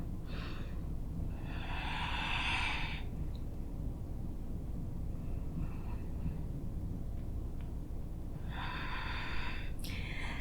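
Two airy breaths from a person holding yoga side angle pose, each lasting a couple of seconds and several seconds apart, close over a steady low background hum.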